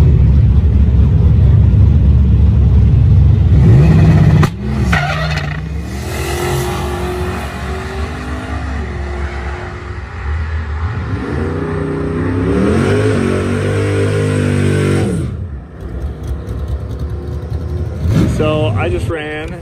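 A drag racing car roars hard down the strip at Great Bend, Kansas, the loud engine note climbing through gear changes before cutting off, with voices talking over parts of the run.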